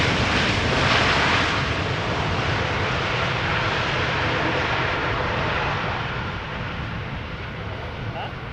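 Airliner landing at Schiphol Airport with a little reverse thrust, a loud broad roar holding steady and then easing off slightly toward the end, with no voices over it.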